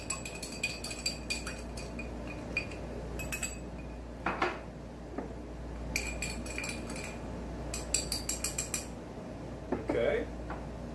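Spherical ice cubes stirred in a Rusty Nail cocktail, with repeated bright clinks and glassy rattles in bursts, close and crisp, mixed with a few louder knocks.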